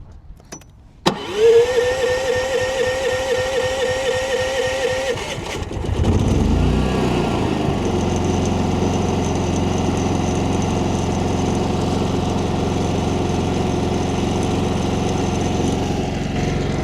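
A Harbor Freight Predator generator, its largest model, starts up near the end of a short clatter and settles into a steady, loud engine drone that runs unbroken for the rest of the clip, close by.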